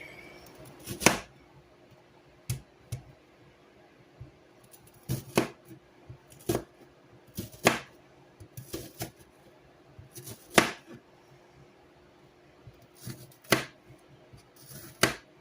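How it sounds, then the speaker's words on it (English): A kitchen knife dices an onion on a cutting board: about a dozen sharp chops land irregularly in short bursts with pauses between them. Each one is crisp and close, with no talking. "we're going to get our onion diced up"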